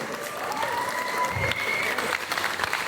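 An audience at a talk show applauds and cheers steadily for a photographer, dense clapping with a few raised voices rising above it.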